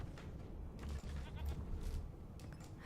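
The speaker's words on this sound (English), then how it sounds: "There's a goat! Did you hear the goat?" A goat bleats briefly and faintly in the video game Divinity: Original Sin II, set against a low, steady game ambience.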